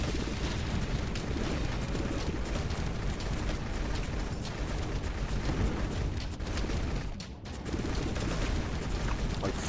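Explosions in the God Of Weapons video game, a dense, continuous barrage of loud blasts and crackling bursts with one brief dip before the pounding resumes.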